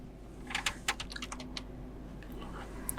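Fingers tap a computer keyboard in a few quick, close bursts of clicks while entering a country setting during a Samsung Galaxy S23 firmware update, then the keys fall quiet over a low steady hum.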